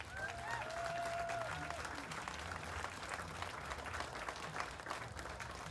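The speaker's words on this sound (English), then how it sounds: "Give Kenyon Wanamingo a round of applause." Audience applause in a hall for the Kenyon Wanamingo FFA chapter at a state fair anniversary event, steady dense clapping throughout with a brief tonal whistle-like sound early on.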